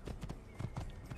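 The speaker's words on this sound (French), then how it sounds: "Allez, au galop, le canasson." Rhythmic hoof clip-clop of a horse galloping in Assassin's Creed, close and moderately loud, with a faint snort and no talking over it.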